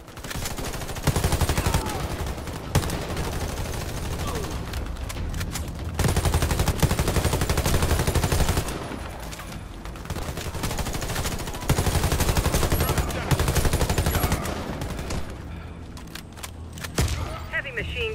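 Heavy machine gun fire in the video game Warface rattles in long, loud, nearly continuous bursts with brief dips, while a voice speaks over the shooting.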